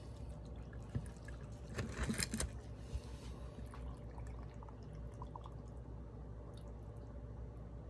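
Liquid brine poured over raw shrimp in a container for curing as bait, a short burst of splashing pour around the middle, then quieter dripping and sloshing against low background hum.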